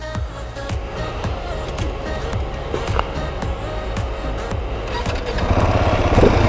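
A Husqvarna 701 Supermoto single-cylinder motorcycle engine starts up and runs nearby, with a rapid pulsing idle and a few sharp mechanical clicks. The engine grows louder toward the end.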